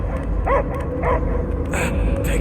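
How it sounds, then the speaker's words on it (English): A dog barks a few times in the video game Marvel's Guardians of the Galaxy, short close yelps spaced about half a second apart over a loud, dense game soundtrack. "I hear only barking."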